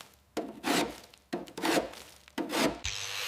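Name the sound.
old undercoat cracking and peeling off Aston Martin DB5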